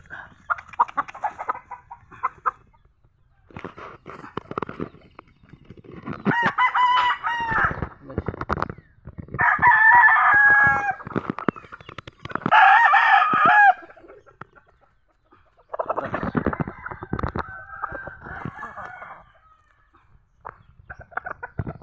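Hens cluck in bursts while a rooster crows loudly several times nearby, with short pauses between calls.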